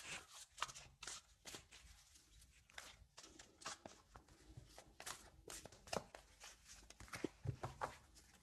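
Deck of oracle cards being shuffled by hand, a long run of quick crisp riffles and soft slaps in uneven bursts, close and fairly quiet, with no talking.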